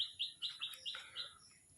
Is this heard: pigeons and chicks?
yes